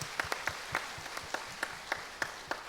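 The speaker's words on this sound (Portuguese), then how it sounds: "Vamos aplaudir os irmãos aqui do painel" An audience at a regional church congress in Imperatriz claps for the panel in an even, rhythmic beat, the separate claps fairly faint against a soft room hum.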